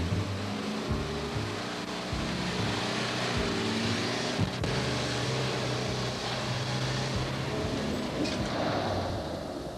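Toyota 4Runner towing a Land Cruiser on a trailer, a steady low engine drone with road rumble running throughout at constant loudness, with no voices.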